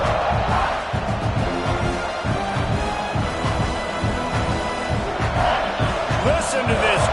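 At a packed college football stadium for FSU against South Carolina, the crowd roars continuously, a thick wall of noise with whoops and shouts, while a commentator talks over it.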